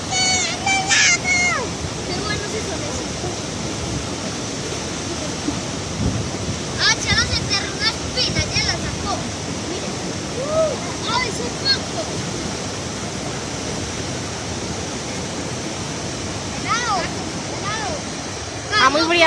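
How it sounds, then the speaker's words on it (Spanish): A waterfall of cold water near Abejorral, Antioquia, Colombia roars steadily and continuously at close range, while people talk and call out over the constant rushing. "Para que está muy chévere la cascada, oiga."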